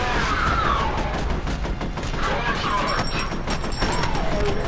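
Rapid gunfire in the shooter F.E.A.R., a dense run of shots continuing across the whole stretch, with a voice speaking over it.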